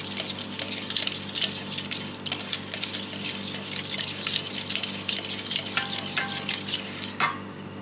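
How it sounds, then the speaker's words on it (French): Four eggs and two sachets of vanilla sugar are mixed in a bowl, with busy, continuous stirring clatter and utensil scraping against the bowl, ending in a brief louder knock. "Les 4 œufs et les 2 sachets de sucre vanillé. Et je mélange."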